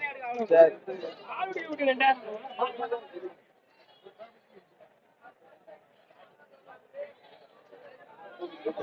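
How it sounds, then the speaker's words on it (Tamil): Goats and young kids at a Saturday livestock market in Ettayapuram call out in several loud, wavering bleats over the first three seconds, followed by quieter scattered noises and faint talk. "நல்ல ஒரு தாயாடு ரெண்டு குட்டியோட இருக்கு"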